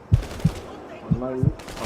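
Gunshots in a GTA robbery game session, four sharp, separate shots spread across a couple of seconds, close and fairly loud, with faint background game sounds.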